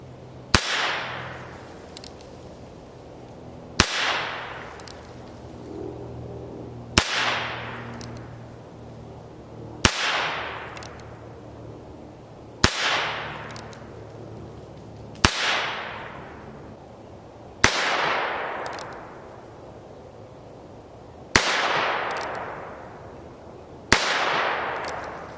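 A Heritage Rough Rider single-action revolver fires .22 Magnum CCI Maxi Mag rounds: eight sharp, loud shots about three seconds apart, each followed by a long, fading echo outdoors.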